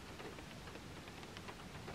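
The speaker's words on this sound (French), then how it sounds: "Ah, il pleut." Steady rain falls outdoors, a soft continuous hiss with faint scattered drops, even and low in level throughout with no voices.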